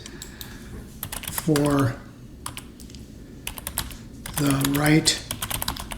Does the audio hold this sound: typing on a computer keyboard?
yes